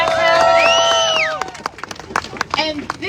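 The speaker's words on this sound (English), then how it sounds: "So round of applause" A rally crowd in Edmonton breaks into applause and cheering, with a whistle rising and falling over the clapping before it thins into scattered claps and talk.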